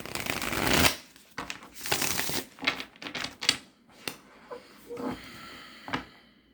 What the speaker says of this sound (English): As much as I shuffle, I still come out and I see the Queen of Wands peeking.